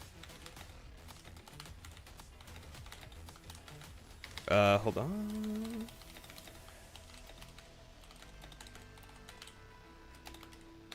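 Quick, light typing on a computer keyboard during a Black Ops 7 game stream, with soft key taps running through most of the clip under a brief spoken phrase and faint game sounds.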